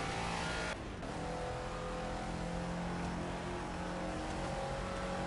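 A Caterham race car on Silverstone's British Touring Car National Circuit in Project Cars screams at high revs, its loud engine steady and continuous after a short dip early on.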